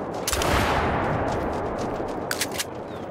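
A rifle gunshot while hunting in the video game The Hunter Call of the Wild, a single loud blast with a booming tail that fades over a couple of seconds.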